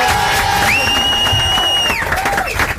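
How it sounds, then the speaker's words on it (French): A radio studio audience cheers and applauds for two young singers aged 10 and 12, with loud cheering, shouts and whoops and a sustained high whistle-like tone, scattered clapping underneath. "On va les applaudir."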